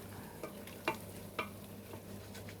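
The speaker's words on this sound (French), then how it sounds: "On va remuer encore un petit peu." Monkfish pieces stirred in a frying pan with garlic-ginger purée and a sprig of thyme, faint sizzling under a few soft scraping strokes of the utensil, no voices.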